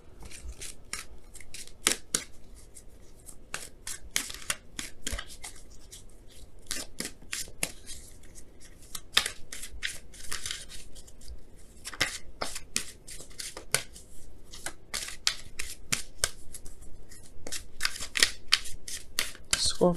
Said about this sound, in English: we're gonna pull some Romance Angels cards to kind of get a better idea of what this, what's going on